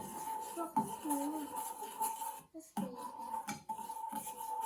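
A spoon scrapes and clinks against a bowl while edible slime made with starch is stirred, an uneven run of close scraping with short pauses and soft voices talking faintly in the background.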